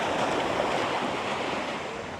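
Ocean waves wash onto the beach at Swanage, Dorset, below the cliffs, making a steady, broad rush of surf with some wind, fairly close and with no voices.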